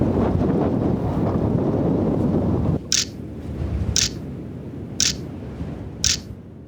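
Strong wind buffets the microphone in Iceland, a loud dense roar for the first three seconds, then gustier rumbling with several sharp clicks spaced about a second apart.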